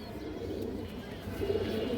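Khoragola pigeons coo in a low, steady, throaty murmur, close and continuous, with the cooing swelling slightly louder toward the end.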